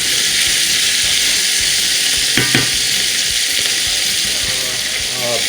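Chicken frying in a pot for a chicken dish with chayote and calabash, with a steady, loud, hissing sizzle throughout and a couple of brief stirring clicks partway through.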